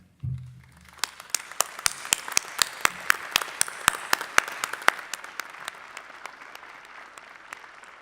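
A crowd at a graduation ceremony breaks into sustained applause, many hands clapping together, building quickly and then tapering off slowly toward the end.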